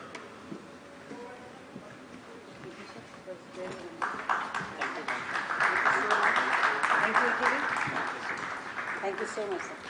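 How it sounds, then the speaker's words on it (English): An audience applauds panelists at a business round table event in Tamil Nadu, with clapping that swells after a few seconds into sustained applause, mixed with speech and crowd noise. "Please give a huge round of applause to all the panelists."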